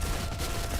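Rapid bursts of video game gunfire crackle steadily and densely through the whole moment, fairly quiet and without a break.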